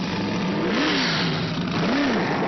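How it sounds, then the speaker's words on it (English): Racing car engine of over 700 brake horsepower, a loud close steady drone with two swelling revs, the pitch rising and falling, no voices. "it's a very big engine, over 700 brake horsepower"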